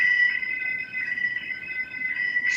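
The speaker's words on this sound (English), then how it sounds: "Sorry, that's our fire alarm." Fire alarm going off indoors during a workshop session, a faint steady high-pitched electronic tone sustained throughout, with no talk over it.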